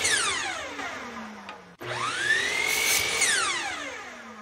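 Miter saw spins up and cuts wood pieces to a set length against a stop, with a loud whining motor that winds down, briefly cuts out, then revs again and coasts to a stop.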